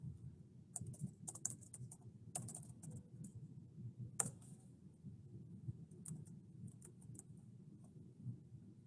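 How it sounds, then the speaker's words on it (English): Typing on a computer keyboard while entering accounting records: scattered bursts of light clicks with irregular pauses, close and fairly quiet over a low steady room hum. "I type the company, I type the party's name first."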